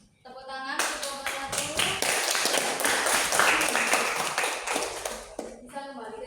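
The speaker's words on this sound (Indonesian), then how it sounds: "tepuk tangan untuk kelompok" Students in a classroom clap for a presenting group, a dense burst of hand claps lasting several seconds at moderate loudness, with voices speaking before and after.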